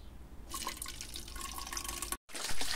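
Water poured from a tap or bottle into a lemon and sea salt drink, a steady close splashing stream with a brief cutoff near the end, no talking.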